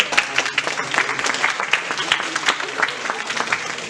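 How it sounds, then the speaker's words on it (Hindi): Audience applause for Krishna during an MBA coaching seminar, a moderately loud spread of claps filling the room with some voices mixed in. "कृष्णा के लिए तालियां।"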